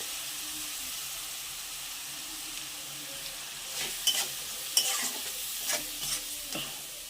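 Spices with salt, turmeric and Kashmiri chili powder fried in oil and stirred in a pan for a pointed gourd curry: a steady low sizzle with scraping stirs growing clearer toward the end, no voices.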